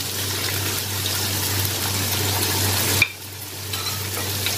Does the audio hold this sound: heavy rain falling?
no